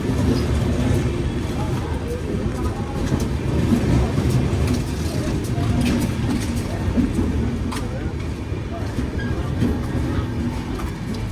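Udyan Express passenger train rolling past near Pune, a steady loud rumble with rhythmic wheel clatter and rattling carriages throughout.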